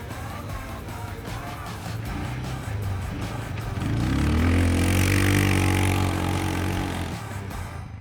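A budget 4x4 ATV with power steering, winch and low range drives off-road, its engine droning steadily and then swelling louder with a rising rev midway before easing off.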